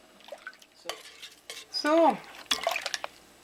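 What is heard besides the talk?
carrot juice dripping while being strained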